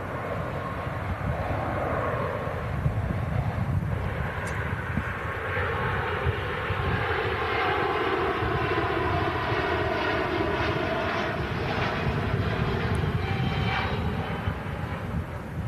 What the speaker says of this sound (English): Beautiful Airbus A350 taking off to Singapore.